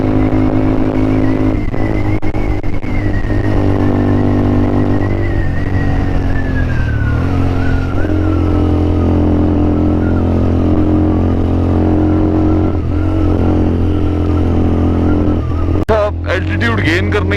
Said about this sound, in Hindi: एल्टीट्यूड गेन करने की वजह से बाइक ने मिसिंग करना शुरू कर दिया, क्योंकि ऑक्सीजन कम है।